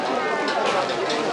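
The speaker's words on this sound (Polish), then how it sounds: "Ale piękne gołębie." Pigeons at an animal blessing, being released from a cage, with faint cooing and fluttering beneath a steady wash of outdoor noise and voices of people talking.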